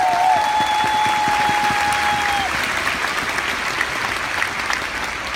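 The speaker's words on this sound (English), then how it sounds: "Would you give yourself a round of applause for becoming one of the great" A large audience applauding at the Nu Skin Korea 20th anniversary convention, a broad wash of clapping that stays strong throughout, with a short musical tone at the start.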